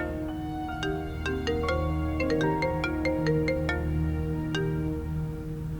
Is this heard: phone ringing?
yes